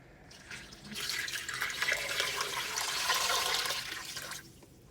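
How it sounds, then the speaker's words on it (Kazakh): Water pours steadily into a kazan holding meat for Nauryz kozhe, a Kazakh dish. The pour is close and continuous for about four seconds, then stops abruptly. "суымызды құйып"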